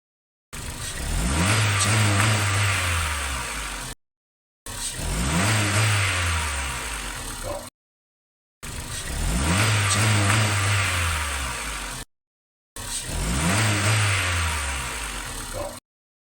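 Car engine with the MAP sensor disconnected, revved in four separate bursts with short silences between, each a rising then falling drone that seems to struggle near low revs, close and loud.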